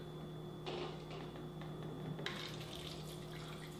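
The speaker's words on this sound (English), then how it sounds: "I'm going to put it right here in this glass, and I'm going to use Kangen water" Kangen water is poured into a glass holding a green tea bag, a soft, faint trickle and splash of liquid against a steady low hum, with no voices.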